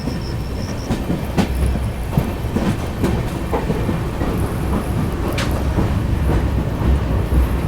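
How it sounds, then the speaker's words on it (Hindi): A train rolls slowly over a bridge near Jalpaiguri Road railway station in India with a steady rumble and occasional clanks, while heavy rain patters throughout. "पुल के कारण ट्रेन को यहाँ पे धीरे किया गया है"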